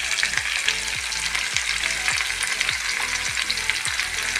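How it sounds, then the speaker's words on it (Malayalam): Ginger, curry leaves and chopped green chillies frying in a pan, giving a steady, dense crackling sizzle close by with a faint, regular rhythmic thump underneath, and no voices. "4 പച്ചമുളക് ചെറുതായി അരിഞ്ഞത്. ഒന്ന് ഫ്രൈ ആവട്ടെ."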